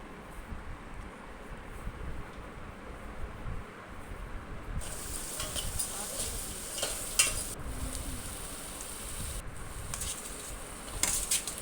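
Chopped tomatoes being stirred into a simmering curry in a pot, with a faint, steady sizzle and occasional soft scrapes and clinks of a spoon.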